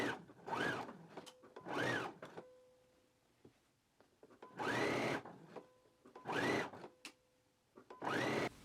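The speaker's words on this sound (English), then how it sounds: "Now I'm going to go ahead and stitch them in a 5/8 of an inch seam allowance." Sewing machine stitching sleeves into a garment at a 5/8 inch seam, in five loud bursts of a few seconds each, separated by quieter pauses with faint clicks.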